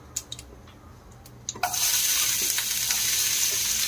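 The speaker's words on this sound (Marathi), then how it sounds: "आता कांदा आपल्याला चांगला परतून घ्यायचा आहे।" Chopped onion, tossed into hot oil with mustard seeds, asafoetida and turmeric, bursts into a loud continuous sizzle after a few soft clinks, then keeps frying steadily.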